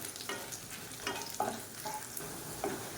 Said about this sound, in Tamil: இது கூடவே சின்ன நெல்லிக்காய் சைஸுக்கு புளி அதையும் சேர்த்து எண்ணெயில் போட்டு வறுத்துக்கலாம்.